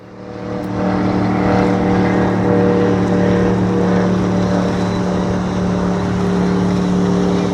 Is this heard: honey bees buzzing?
no